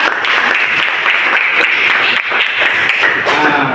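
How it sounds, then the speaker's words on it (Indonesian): A classroom of students claps for a classmate, a dense, steady burst of applause lasting several seconds at close range with no pause. "tepuk tangan untuk Hafid"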